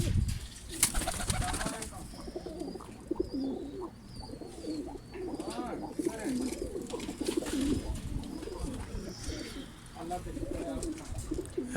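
Pigeons coo repeatedly at close range in soft, rolling phrases, with occasional rustling and wing movement during rain, over a low background hum.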